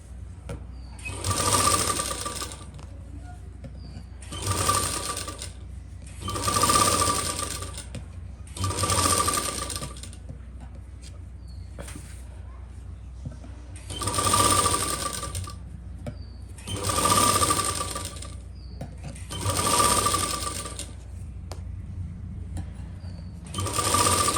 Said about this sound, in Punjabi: ਰੇਵ ਕੱਪੜੇ ਦੇ ਉੱਪਰ ਆਪਾਂ ਸਿਉਣ ਮਾਰਨੀ ਠੀਕ ਹੈ